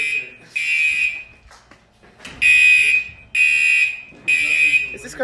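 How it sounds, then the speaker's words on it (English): A building fire alarm sounds in loud, regular bursts, each lasting about a second with short gaps between them, ringing close and harsh. Brief voices and movement noise fill the gaps between bursts. "We've managed to set the fire alarm off for the whole building."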